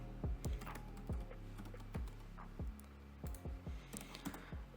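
Someone types on a computer keyboard while coding in Python, a quiet, close patter of key clicks in small irregular bursts with no talk.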